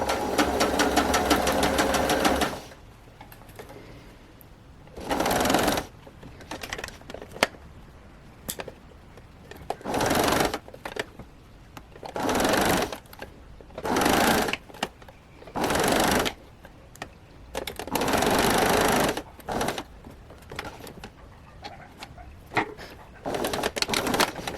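A sewing machine runs in repeated bursts, stitching through fabric to gather it with elastic, each run lasting a second or two and separated by short pauses, close and fairly loud, with no talking.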